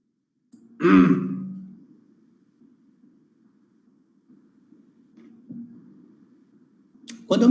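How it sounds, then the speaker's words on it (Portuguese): A single loud throat-clearing cough erupts near the start, followed by a low steady hum and a faint stir of movement before another noise at the end. "deixa eu dar uma tossida aqui"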